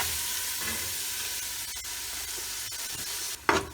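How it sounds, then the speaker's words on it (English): Chopped tomatoes stirred into a hot pan on low gas while making khari, giving a steady close sizzle and hiss with a brief louder scrape or burst of frying near the end. "I'm going to add in my 3 chopped tomatoes. Stir it in"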